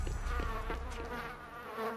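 Bees buzz steadily in Dead Rising 4, a dense, continuous insect drone over a low rumble, fairly quiet and with no one talking.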